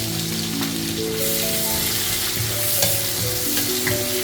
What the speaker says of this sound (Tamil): இப்போது நம்ம எடுத்து வச்சுக்க ஸ்பைசஸ் அப்புறம் ஆனியன் ரெண்டையும் சேர்த்து மிக்ஸ் பண்ணி நல்லா கிண்டி விட்டுக்கலாம்